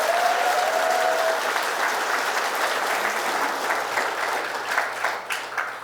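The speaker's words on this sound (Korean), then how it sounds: "그런 점에서 다시 한번 박수를 쳐주셔야 돼요." A large audience at a Daegu economy-revival forum applauds steadily for several seconds, loud and dense, with the clapping thinning into scattered claps near the end; no speech over it.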